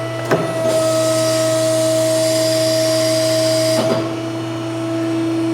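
A hydraulic mandrel tube bender forms a frame rail for a 1947-1953 Chevy 3100 truck, giving a steady, close mechanical whine and hum with a few faint clunks at the start and near the end.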